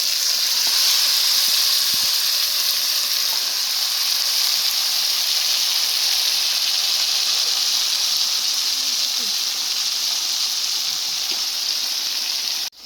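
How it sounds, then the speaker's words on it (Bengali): Marinated pangas fish pieces in hot oil in a kadai, a loud, steady hiss of sizzling that holds almost unchanged throughout before cutting off at the end. "তেলটি গরম হয়ে যাওয়ার পর ম্যারিনেট করা মাছগুলো দিয়ে দিল।"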